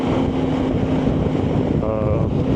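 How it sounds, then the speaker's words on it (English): Strong wind buffeting a BMW K1600 GTL motorcycle rider on an Albuquerque, New Mexico road, a loud, constant roar of rushing air over the microphone with low engine rumble beneath. "that wind is blowing that way. It just blew me sideways a little bit"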